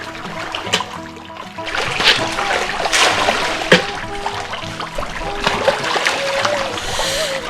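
Fish splash at feeding in a farmed fish pond holding fish of about 1.2 to 1.5 kg, giving repeated irregular slaps and splatters of water, some sharp and close, over a busy background with faint tonal sounds.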